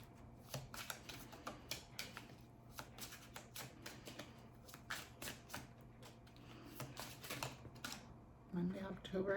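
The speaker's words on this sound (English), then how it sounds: "I'm going to draw the cards for each day of the week." Tarot cards are shuffled and drawn for a weekly reading, giving a quiet run of rapid riffling flicks and taps close by, with soft talking at the end.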